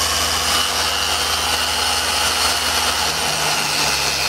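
Angle grinder converted into a polishing machine spinning freely at a set speed, a loud, steady whirring motor drone with a constant high hiss, unbroken throughout.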